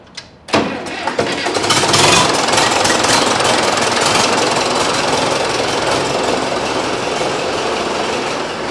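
A Case 830 diesel tractor engine cranks and catches, then settles into a loud, steady, rough-knocking run that continues to the end, with no talking.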